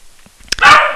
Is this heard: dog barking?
yes